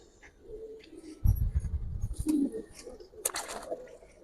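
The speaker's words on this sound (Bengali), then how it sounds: "পাখির আওয়াজ পাইলাম" Giribaz pigeons coo softly in a loft, broken by a sudden thumping flutter and scuffling up close, followed by a brief sharp rustle near the end.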